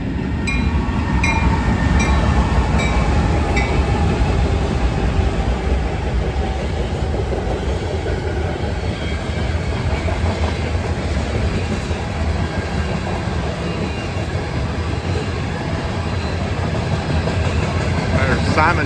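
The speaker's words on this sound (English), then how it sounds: "we got a coke train coming now on the NS line" NS freight train M559, a coke train, rolls past on the line from Willard, Ohio toward Cincinnati: a steady loud rumble of wagons with rhythmic clickety-clack and engine drone throughout, fairly close and continuous.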